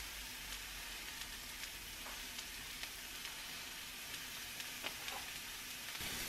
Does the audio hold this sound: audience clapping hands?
no